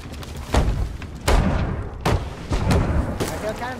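Cannon fire in the Sea of Thieves pirate game: a handful of heavy, booming blasts land at irregular intervals, each a sharp thud with a rumbling tail, fairly loud and close.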